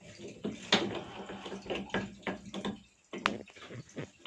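Water from a tap in a tiny house splashes and patters irregularly into a basin, close and fairly quiet, with scattered drips and brief bursts of flow and no talking.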